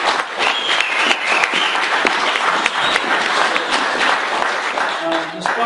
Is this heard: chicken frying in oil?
no